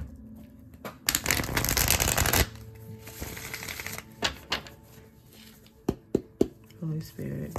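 Tarot cards are shuffled in a dense burst of fast riffling flutter lasting just over a second, followed by scattered soft taps, slaps and card handling noises close to the mic.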